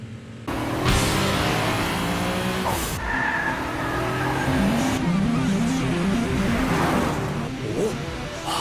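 A tuned Mitsubishi Lancer Evolution engine revs hard and roars up and down close by, with rising and falling pitch sweeps as it accelerates, loud and continuous.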